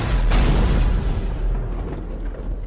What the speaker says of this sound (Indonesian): Tak lupa Snow juga melemparkan sebuah granat.